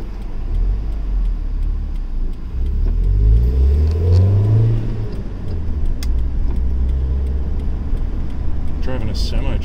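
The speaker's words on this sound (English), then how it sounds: "Driving a semi truck." A semi truck's engine rumbles steadily while driving, with a low rising rev sweep midway as it accelerates. A person talks over the drone.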